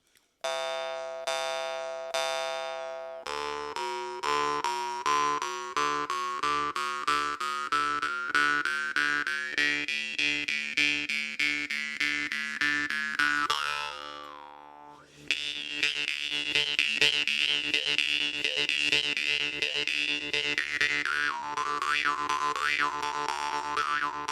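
A jaw harp from Rajasthan, India twangs with bright, ringing bell-like overtones, plucked in a steady rhythm with sweeping pitch changes and a short pause midway, no voices.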